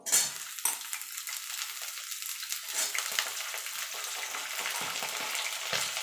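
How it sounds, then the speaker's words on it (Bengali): Gourd leaf stems fry in hot oil with potato and nigella seeds, giving a steady close sizzle with occasional stirring scrapes and no talk. "ডাটাটা দিয়ে মিনিট খানেক একটুখানি নাড়াচাড়া করে নেব।"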